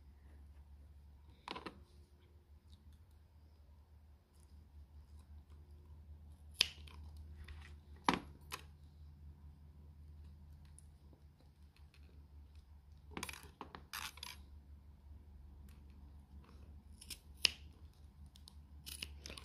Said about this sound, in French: on va venir couper donc entre les deux aiguilles ici.